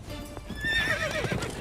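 A horse in a video game gives a high, wavering neigh over steady clip-clopping hooves, loud and close, near a river.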